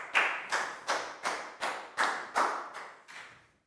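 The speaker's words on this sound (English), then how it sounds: "Big round of applause for Pak Bung," Classroom applause for a student in a Year 4 science lesson: about eight separate, evenly spaced claps or slaps, each sharp and decaying quickly, close and fairly quiet with no talk.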